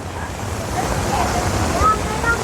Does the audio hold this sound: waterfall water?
yes